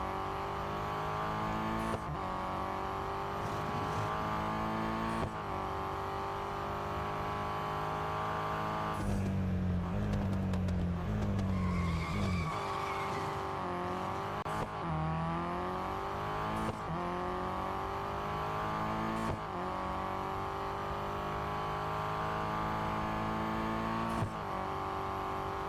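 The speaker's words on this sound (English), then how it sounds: "You heard the gear change on this car, very strange." Race car engine in Real Racing 3 drones steadily throughout, its harmonic whine climbing and dropping sharply at each gear change, with a busier burst of revving and shifting near the middle.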